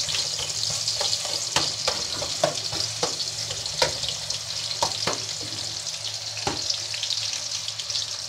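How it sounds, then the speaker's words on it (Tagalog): Ginger and tomatoes sautéing in a pan as the base for a chicken soup with egg: a steady, close sizzle with occasional sharp taps from stirring. "umpisa na po natin mag-gisa"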